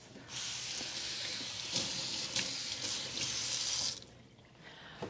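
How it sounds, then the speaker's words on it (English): A kitchen tap runs for about three and a half seconds as fresh ginger is rinsed under the stream. The hissing, splashing flow is close and steady, then stops abruptly. "let me rinse this right back real quick"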